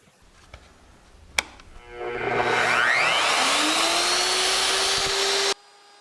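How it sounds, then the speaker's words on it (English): Power drill re-drilling holes in an aluminum router table insert plate: a click, then the motor spins up into a loud, steady whine with a rising pitch as it bites the metal, cutting off abruptly. "So now I have to re-drill the holes."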